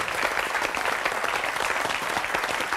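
A studio audience claps loudly and steadily, a dense, even wash of applause that lasts a few seconds without a break.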